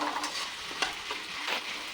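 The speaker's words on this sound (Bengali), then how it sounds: "এখন ফ্লেমটা একটু হাই করে নিয়ে নাড়াচাড়া করে একটু ছেড়ে দেব" Food frying in a pan on a high flame is stirred, a soft continuous sizzle with a few brief scraping strokes, close and alone.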